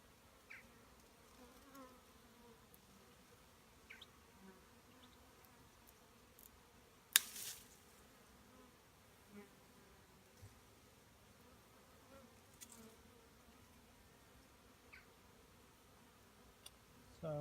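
A swarm of honeybees clustered on tree branches gives off a faint, steady outdoor hum, with a soft rustle and a few light knocks scattered through it and no talking.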